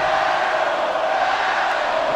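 A Canadian wrestling crowd jeers a wrestler named Kevin, a loud sustained roar of massed voices filling the arena with no pauses.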